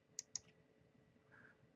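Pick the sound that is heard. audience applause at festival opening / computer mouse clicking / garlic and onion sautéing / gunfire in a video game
computer mouse clicking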